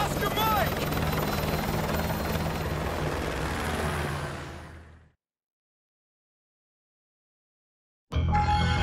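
Helicopter in the Call of Duty Modern Warfare 2 campaign, a loud steady rotor drone with game voices over it, cutting off abruptly around five seconds, followed by silence and then a burst of sound returning.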